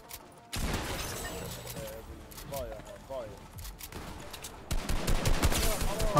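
Gunfire in the Fortnite video game: bursts of sharp rapid shots, close and loud, with a heavy volley at the end, mixed with excited talk from players.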